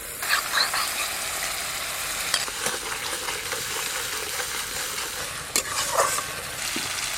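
Spice paste for a village-style hilsa curry with small brinjals is stirred and fried in hot oil, giving a steady close sizzle with scraping stirs and a few sharper clicks from the spoon, with no talking.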